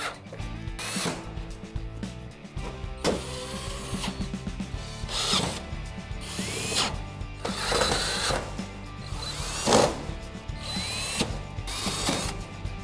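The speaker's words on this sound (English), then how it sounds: "Once you have it lined up, you can put the screws back in." Screws driven back into an electric oven panel after a broil element repair, heard as repeated ratcheting, whirring bursts of a driver, fairly close and loud, with clanks between runs and no talking.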